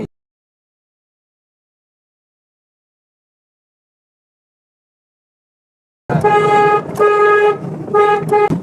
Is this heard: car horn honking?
yes